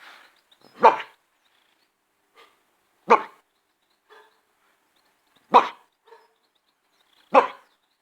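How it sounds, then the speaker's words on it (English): Four sharp, loud dog barks come at spaced intervals, with fainter answering yips between them, like dogs barking back and forth with each other in otherwise quiet surroundings. "My friend, Dogiano, dogs scream at each other."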